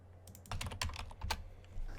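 Rapid typing on a computer keyboard while building a Fleer-style basketball card design in graphics software, close and steady clicks in short bursts with a low background hum.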